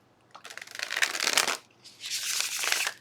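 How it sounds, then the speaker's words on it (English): A tarot card deck shuffled in two bursts of riffling, crisp and close, with a short pause between them and no talking. "Just going to do 1 shuffle on the tarot."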